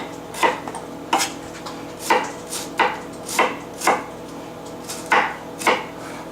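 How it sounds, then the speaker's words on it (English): A knife chops cauliflower on a cutting board, about ten crisp, evenly spaced thunks at a steady rhythm, close and clear with no talking. "Okay, I'm going to cut these up."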